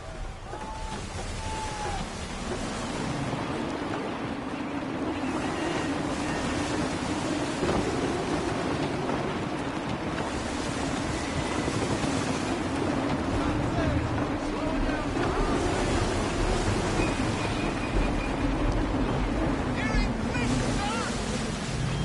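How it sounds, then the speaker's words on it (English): Gusty wind and crashing waves at sea aboard a sailing ship in Assassin's Creed 3, a continuous loud roar of wind and surf with a low rumbling swell throughout and no pauses. "Gusty winds can be difficult to manage."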